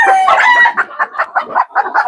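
A bantam rooster crows up close, giving one loud call followed by a rapid series of short, clucking pulses, with no talk.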